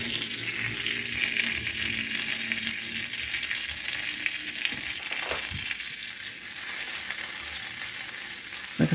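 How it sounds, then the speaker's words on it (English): Corn and potato patties frying in a very large frying pan, a steady, loud, dense sizzle and crackle of hot oil that runs throughout with no voices. "this is my really big frying pan"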